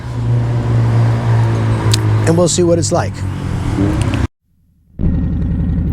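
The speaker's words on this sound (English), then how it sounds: "as you can hear, this bike has got aftermarket pipes on it" A Harley-Davidson touring motorcycle with aftermarket exhaust pipes rumbles loudly close by with deep, throaty exhaust and revving, while someone speaks over it; the engine cuts briefly then returns.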